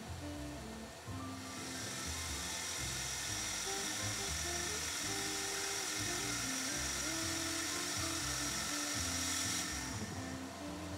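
A car's power steering pump gives off a continuous high, hissing whine over a low engine hum, holding steady for several seconds with only slight swells, fairly faint and heard without any talk.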